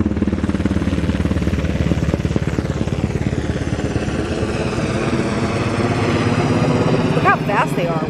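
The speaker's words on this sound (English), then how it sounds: "Wow, that's a fast helicopter." Loud rhythmic chopping of Black Hawk helicopter rotors passing close overhead, a heavy continuous thrum that shifts in pitch as the aircraft flies by.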